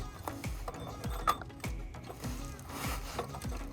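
A wrench tightening a new oil filter on a 3rd gen Toyota Tacoma with the 3.5L engine. Close mechanical clicks and scraping turns repeat at an even, steady pace.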